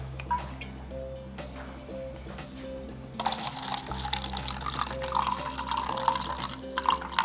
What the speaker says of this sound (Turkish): Şimdi ben suyu koyuyorum